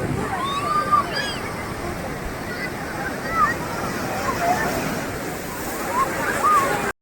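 Strong ocean waves wash continuously at Candolim beach near Calangute in Goa, a broad rushing surf with swells in loudness, while voices and faint calls sound in the background.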